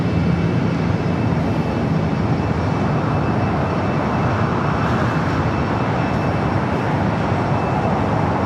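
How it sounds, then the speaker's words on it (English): A Hawaiian Airlines Airbus A330-200 heavy jet arriving at LAX from Honolulu, a steady broad engine roar sustained throughout without talk. "Hawaiian Flight 802 coming up from Honolulu, another A330-200 at next heavy arrival on the north side"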